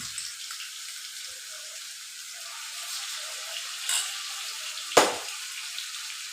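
Chicken pieces frying in hot oil give a soft, continuous sizzle and crackle, with one sharper pop near the end and no talking.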